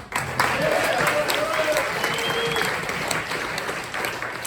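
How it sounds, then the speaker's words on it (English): A live audience at a big band concert at The Falcon in Marlboro, NY, gives a steady round of applause for the sound engineer, sustained clapping with a few whistles or voices mixed in. "round of applause for Brian doing sound"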